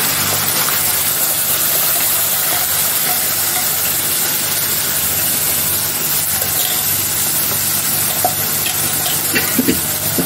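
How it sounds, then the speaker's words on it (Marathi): Steady, loud sizzling hiss of ground spice paste frying in hot oil for a fish curry, continuous throughout with a few faint clinks near the end. "आता मी केलेले वाटण आहे ते वाटण टाकते फोडणीसाठी"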